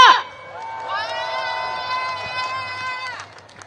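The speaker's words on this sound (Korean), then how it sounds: "여러분 계속해서 뜨거운 함성과 박수 부탁드립니다" A political rally crowd gathered for an opposition parties' national protest cheers and shouts loudly, a sustained roar of many voices lasting a few seconds after a brief voice at the start.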